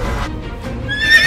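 A horse gives a brief, close whinny rising at the end, with a hint of hoof movement beneath it.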